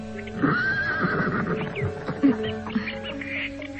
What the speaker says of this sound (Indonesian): Aku akan segera memacu kuda ini.